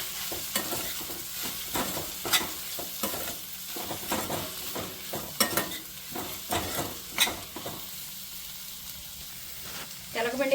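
Sesame seed flour being stirred into bottle gourd curry in a pan: repeated scraping stirs and clinks over a soft, continuous sizzle, close and moderately quiet, with a faint voice in the background.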